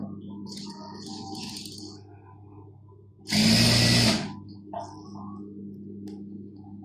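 A sewing machine runs in one loud burst of about a second, double-stitching a burqa, set among quieter background rustles and a low steady hum.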